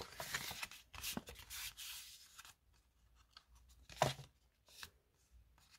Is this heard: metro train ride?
no